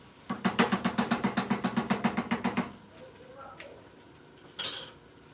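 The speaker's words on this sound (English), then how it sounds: "We're going to stir the rice." A spoon stirs rice in a pot for spam musubi, knocking against the pot in a quick, steady run of about sixteen close metallic clinks, then a quiet pause and one last soft clink.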